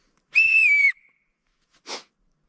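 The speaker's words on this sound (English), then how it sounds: "It's a help me whistle." Emergency help-me whistle gives one sharp, shrill blast lasting about half a second, followed after a pause by a short, breathy, fainter puff, heard alone in quiet.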